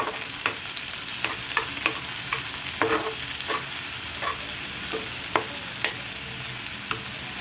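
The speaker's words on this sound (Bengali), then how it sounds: "এরপর দিয়ে দেবো পেঁয়াজ তোর ভালোভাবে ভেজে নেব" Chopped onion and garlic fry in hot oil, giving a constant close sizzle punctuated by regular scrapes and taps of a spatula stirring the pan.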